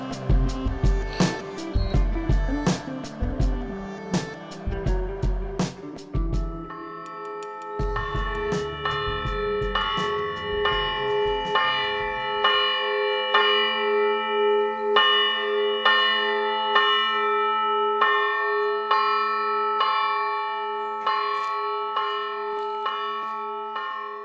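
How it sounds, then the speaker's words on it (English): Church bells at Meteora, Greece ring out loudly in a continuous peal, overlapping strikes at first settling into a steady, resonant chiming that carries on throughout. "with the bells ringing, it was time to go home"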